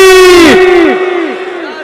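A large crowd at a Shia majlis gathering in Lahore chants the slogan Nara-e-Haidari in unison, a loud sustained collective shout that echoes and fades across the hall.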